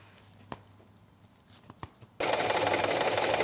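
After a few faint clicks and taps, a sewing machine abruptly starts stitching car seat upholstery and runs steadily and loudly to the end.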